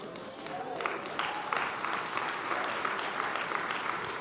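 Audience applause at a motivational talk, dense and steady throughout, a continuous wash of many hands clapping at moderate distance with no voices on top.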